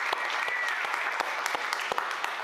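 An audience at a design talk claps steadily, a moderately close, continuous spread of applause with a few sharper individual claps standing out.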